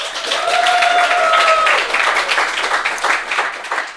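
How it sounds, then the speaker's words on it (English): Loud, full applause from an audience at a book event, continuous for several seconds, with a few whistles or cheers near the start before the clapping thins slightly toward the end. "Please give a round of applause for Chris Scaife."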